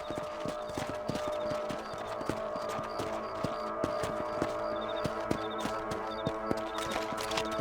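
Horses trotting in the video game Red Dead Redemption, their hooves giving a steady, close clip-clop rhythm that runs throughout over a continuous tonal musical backdrop.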